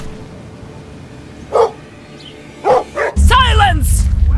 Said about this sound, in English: Who are you barking at over there?